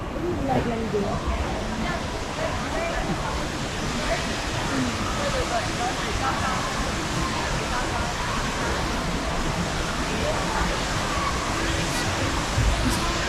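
The indoor waterfall at Jewel, Changi Airport, Singapore, beside the Shiseido Forest Valley, makes a constant, even rushing roar, mixed with faint crowd babble throughout.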